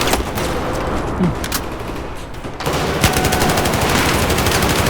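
Rapid bursts of automatic gunfire from Battlefield 4 multiplayer, loud and nearly continuous, with a brief lull before the shooting resumes.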